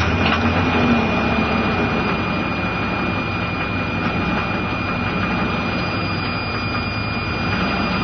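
A vegetable-oil-fuelled diesel Suburban engine cold starting and settling into a steady, loud rumbling idle with a constant whine above it, running continuously and close by with no talking.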